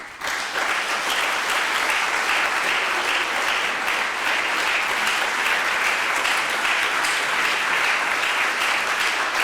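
An audience at the German Ocean Award 2024 ceremony applauds an award winner with dense, sustained clapping that swells in at once and holds steady and loud throughout.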